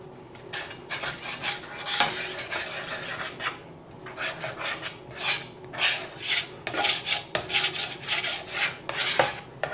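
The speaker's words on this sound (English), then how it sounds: "Preheated, we're going to spread some butter across." Butter is spread across a preheated pan while making French toast, giving soft repeated scraping and rubbing strokes in an uneven rhythm, close and fairly quiet, with no talking.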